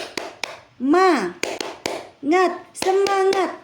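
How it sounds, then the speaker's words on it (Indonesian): Sharp rhythmic hand claps from children in a first-grade class cheer, single claps spaced between sung chant phrases by a voice, close and distinct. "akan memberikan salam semangat untuk kalian sambil bertepuk tangan ya"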